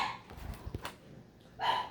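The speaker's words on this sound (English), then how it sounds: "We have little furry monsters that are barking while I'm reading" Small furry dogs bark at night, giving a few short, faint yaps in separate bursts with quiet gaps between them.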